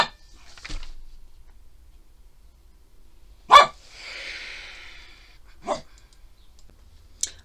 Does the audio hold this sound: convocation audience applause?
no